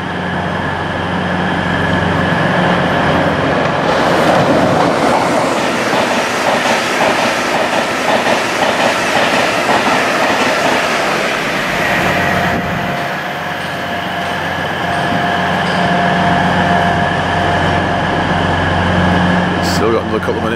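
A fast passenger train roars past close by with steady rumbling and rhythmic clatter of wheels, loud and continuous, then the noise shifts as it moves on.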